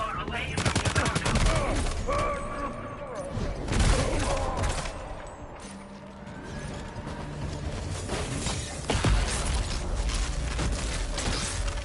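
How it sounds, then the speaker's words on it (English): A gunfight in the video game Death Stranding 2: dense, continuous volleys of rapid gunshots and mechanical clacks, loud and close throughout, with heavier bursts near the start and end. "I really did not mean to get into a big gunfight here."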